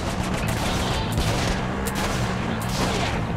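Rapid loud gunfire in Saints Row 4, with overlapping shots over booming game noise and no talk, spread evenly across the moment.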